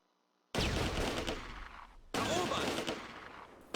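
Gunfire in Close Combat A Bridge Too Far, in a Market Garden battle at Veghel town, comes as two dense, loud bursts of crackling shots separated by a brief gap.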